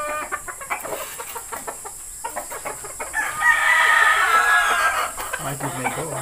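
Gamefowl broodcock crowing in a loud, drawn-out call near the middle, with scattered clucks and other fowl sounds before and after.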